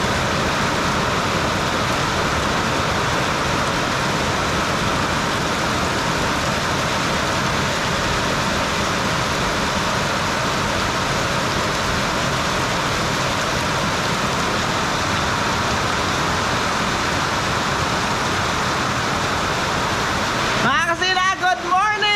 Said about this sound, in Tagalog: Isang maulang umaga po sa ating lahat.